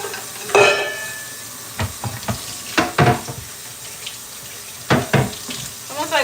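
Tap water runs into a kitchen sink while dishes are washed, with clinks and splashes of plates and utensils in bursts, close and fairly loud, no talking.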